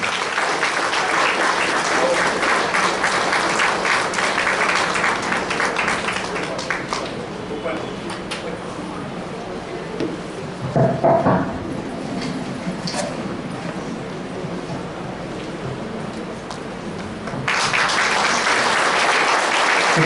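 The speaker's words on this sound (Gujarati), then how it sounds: "આપણે જોરદાર તાળીઓથી એમને વધાવીશું" Sustained audience applause fills a women's honour ceremony held by a charitable trust, loud and dense at the start, thinning in the middle, then swelling again strongly near the end, with a brief voice partway through.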